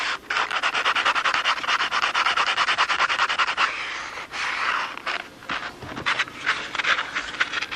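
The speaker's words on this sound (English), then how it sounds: "radius off the ends with some sandpaper wrapped around it" Sandpaper wrapped around a small dowel or paintbrush end rubs and sands the ends of a model part's edge, a steady rapid scratchy rasping that runs continuously with brief pauses and changes in stroke, close and fairly loud.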